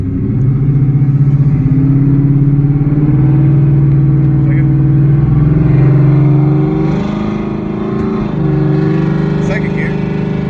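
A Ford Mustang S550 accelerates in first gear, its engine droning loud and close with steadily rising pitch and a slight step midway, heard from inside the car.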